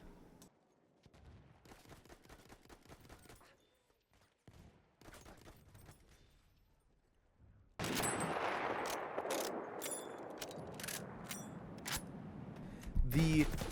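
Rapid medic rifle fire in the Battlefield 1 video game, loud dense bursts of gunshots starting midway after a quieter stretch of game sounds and muffled talk.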